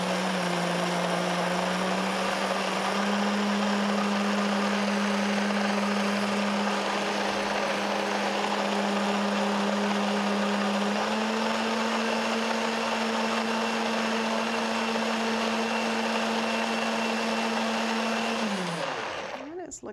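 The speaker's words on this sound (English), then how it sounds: "let me get this going here in the blender till it gets nice and smooth" A high-powered blender purees leftover soup with toasted curry powder until smooth, a loud steady motor whine holding for nearly twenty seconds, stepping up in pitch partway, then winding down at the end.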